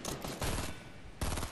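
Rapid bursts of gunfire from a Fortnite match, loud and close, with a dense volley at the start and another sharp burst near the end.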